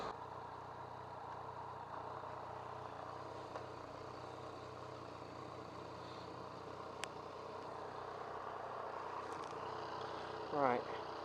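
Yamaha MT-09 motorcycle idling, a steady low engine drone running continuously at moderate distance with little variation.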